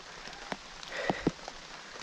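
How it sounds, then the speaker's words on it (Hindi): Heavy rain pours steadily across a mountain trekking trail, a dense continuous hiss broken by a few louder drop impacts nearby. "ले बारिश तेज हो गई यार"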